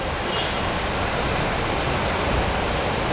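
Heavy monsoon rain falls in Bangkok as a dense, constant hiss of rain hitting surfaces, steady and fairly loud, with no voices.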